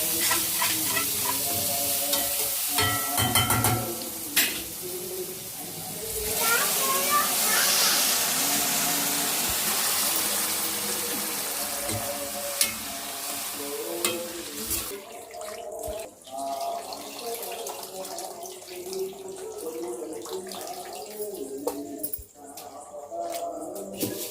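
Tomato, onion and green chilli fry in a pan, then tamarind juice is poured in for a fish curry: a loud hissing sizzle with stirring scrapes turns to a gurgling pour, and a voice talks over parts.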